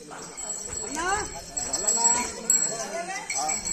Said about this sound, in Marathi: ते बघू शकता तुम्ही, बैल चालले.